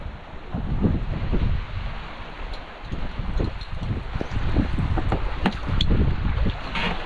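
A solo sailboat making 7-8 knots on open ocean in good conditions after squalls, with steady rushing wash of water along the hull, irregular splashes and constant wind noise throughout, with no talking.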